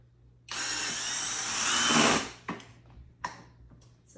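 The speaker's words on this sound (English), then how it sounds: "This is a clutch on a drill, keeps it from over tightening." A cordless drill with its clutch set drives screws into angled holes in shelf boards: one sustained high whir of about two seconds, then a few short sharp bursts and clicks as the clutch slips, close by and alone.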